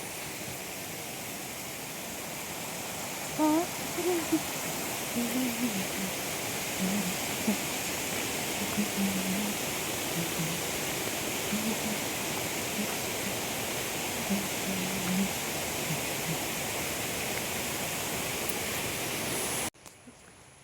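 A waterfall pours in a steady, dense broadband rush that fills the scene and stays constant for about twenty seconds before stopping abruptly. Faint voices and shouts rise occasionally beneath the roar.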